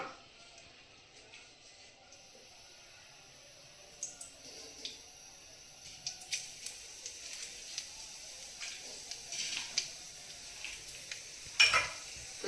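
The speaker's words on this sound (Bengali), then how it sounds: "তো এখন 5 ফোড়ন দিয়ে দেবো।" Panch phoron spices frying in mustard oil, faint at first and then building into scattered pops, crackles and sizzling spatters, heard close and without talk.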